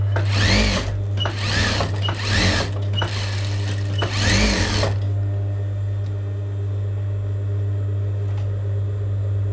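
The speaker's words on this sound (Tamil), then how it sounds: "அரை இன்ச்சு அளவுக்கு நான் பிடிச்சி அடிக்கிறேன்" Sewing machine stitching strips of fabric together, with four loud rapid bursts of running needle in the first half, then a steady low motor hum with the stitching stopped.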